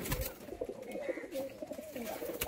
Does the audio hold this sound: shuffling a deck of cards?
no